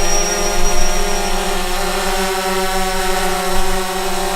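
A DJI Phantom 4 Pro drone hovers nearby after takeoff, its propellers making a sustained buzzing whine with small shifts in pitch and loudness.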